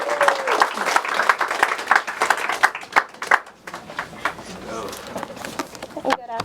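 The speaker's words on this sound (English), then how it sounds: "we want to give it a round of applause" An audience at a Black author summit claps to welcome an author to the stage, with scattered, uneven hand claps and some cheering mixed with talking voices, gradually thinning out.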